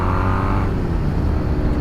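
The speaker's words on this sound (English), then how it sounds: "Just hear the character from that exhaust and the engine." A Triumph Thruxton 900 motorcycle revs close by, its engine and exhaust droning loudly with a rising then steady tone and no voices over it.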